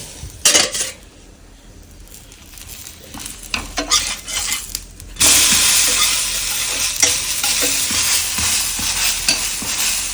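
Dosa batter frying on a hot pan, quieter clinks and scrapes of a utensil at first, then a loud steady sizzle that swells and holds as the batter hits the surface.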